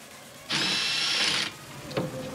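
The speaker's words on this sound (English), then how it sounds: "It's my first time using the impact wrench." An impact wrench removes brake bolts on an R32 Nissan Skyline GT-R, giving one loud, steady whirring burst of about a second, followed by a brief clunk.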